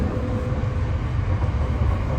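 Steady low rumble and rolling rail noise fill the cabin of a moving newer Southeastern Rail train in winter, continuous and even throughout with no talking.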